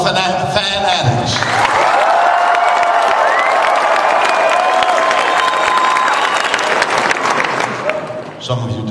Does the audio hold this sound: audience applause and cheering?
yes